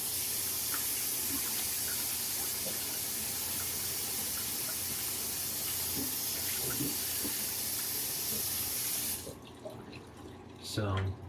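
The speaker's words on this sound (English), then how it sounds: "now I'm going to rinse with warm water to really truly rinse and get all of the shaving cream off of my face" A bathroom tap runs continuously as warm water rinses shaving cream off a face after a safety razor shave, a loud steady hiss that cuts off near the end, followed by faint splashing.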